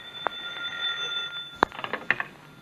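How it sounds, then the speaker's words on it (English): Telephone ringing in a 1946 radio drama, sharp bell-like rings in short bursts with a few clicks, heard fairly close over a hissy background. "answer the phone, someone."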